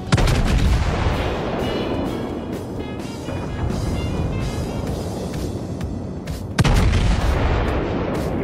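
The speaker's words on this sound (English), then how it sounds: "It was like sound of you just got hit by bullets." Gunfire strikes a ship in the naval battle video game World of Warships, a dense barrage of booming impacts and crackling blasts rolling on continuously, with a sharp, loud burst near the end.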